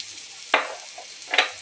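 A spoon stirs sliced onion, tomato and crushed ginger, garlic and green chilli paste frying in a pan, with a steady soft sizzle broken by two distinct scraping stirs.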